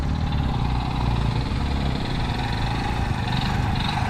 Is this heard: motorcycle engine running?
yes